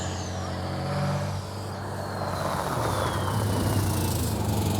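An old heavy truck that fails Euro 6 emissions rules passes on a German road, its loud engine roar swelling and holding close with a falling whine, no talk over it.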